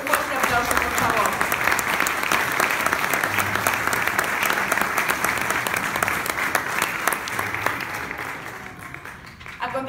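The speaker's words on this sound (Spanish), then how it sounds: "Regalémosle un fuerte aplauso, por favor." A crowd at a tribute event in Ecuador applauds Gloria Reyes Barros with loud, sustained clapping that holds steady before easing slightly at the end, with some voices mixed in.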